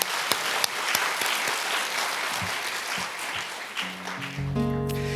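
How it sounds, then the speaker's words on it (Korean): A church congregation at a Sunday afternoon worship service bursts into sustained applause, a dense, even clatter of many hands filling the room, with a sustained musical tone entering toward the end. "박수 한번 칩시다."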